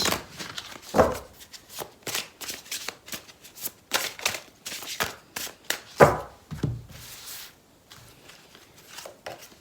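Tarot cards being shuffled for a horoscope reading, a series of close, crisp riffles and slaps with short pauses between bursts.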